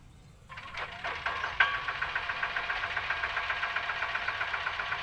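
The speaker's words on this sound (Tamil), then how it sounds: "அது ஷேர் ஆட்டோட சவுண்டு." A small share auto rickshaw engine sputters to life and settles into a loud, rattling idle with a rapid, regular knocking pulse close by.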